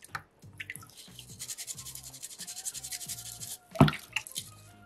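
Folded sandpaper rubs back and forth over a soapstone fish carving in tight areas, a soft rhythmic scratching of quick repeated strokes, close and quiet, with a brief louder scrape near the end.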